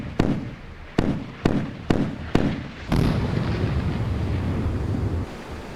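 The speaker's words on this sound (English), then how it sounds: "So the missiles we're launching now are much, much faster than the cruise missiles we've been launching" Warship missiles fire in the naval combat game Sea Power: five sharp launch bangs at uneven intervals, then a long, loud rushing roar of rocket motors that lasts to the end.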